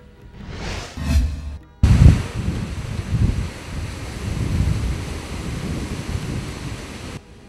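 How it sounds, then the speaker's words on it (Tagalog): Strong wind roars and gusts continuously with a rushing, hissing wash like heavy rain, after a brief muffled rumble at the start; a storm in the upland barangays of Davao City, Mindanao. "Kini ang paghapak sa kusog nga hangin inubanan sa kusubsab nga pag-ulan"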